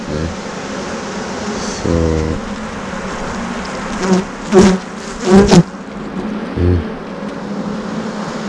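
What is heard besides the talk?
honey bees buzzing during hive inspection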